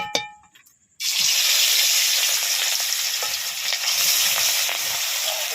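Fish frying in hot oil in a village kitchen, a loud steady sizzle that starts abruptly after a second of quiet clinks and carries on continuously, close by.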